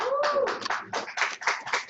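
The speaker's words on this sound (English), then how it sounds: "give them a big round of applause" A press-conference audience in Uganda, gathered for the Abryanz Fashion Awards and a concert, breaks into a brisk round of hand clapping, close and steady, with a brief voice sound at the very start.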